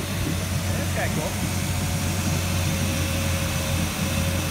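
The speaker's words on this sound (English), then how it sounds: "now I gotta break the engine in, so now we just sit" A boat engine idles steadily while being broken in, a constant low droning hum running through the whole stretch with faint background sounds.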